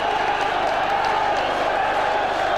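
Football crowd at a Wrexham versus Middlesbrough match applauding Phil Hardy, a continuous loud wash of clapping and crowd noise filling the stadium, with commentary over it.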